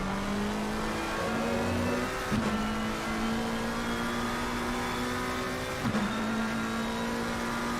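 A GT3 race car engine at Zolder in a racing video game drones loud and steady, its pitch holding then dipping sharply twice as the car shifts or brakes, with a faint tire squeal beneath.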